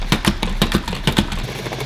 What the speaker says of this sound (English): I got a fancy little salad spinner.